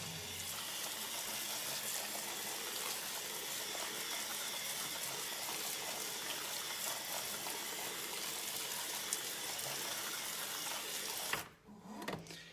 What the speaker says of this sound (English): as that water is draining through here into that tray below, it's going to catch it all and just hold it there